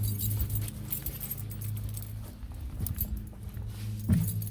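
Keys jingle and clink in short bursts close by, over a low steady hum, with a brief louder rattle near the end.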